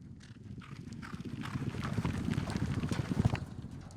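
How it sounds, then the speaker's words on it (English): Yearling horses clip-clop across a yard, their hooves striking in a quick irregular patter, close and moderately quiet, with no voices over them. "We're actually in the yard looking at a couple of horses"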